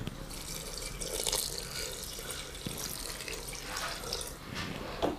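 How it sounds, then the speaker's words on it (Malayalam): A glass of water is poured into a pan of beef curry, giving a soft, continuous splashing and trickling that is fairly faint and close by. "ഇപ്പോൾ ഞാൻ ആദ്യം ഇതിലേക്ക് ഒരു ഗ്ലാസ് വെള്ളം ചേർത്ത് കൊടുത്ത്"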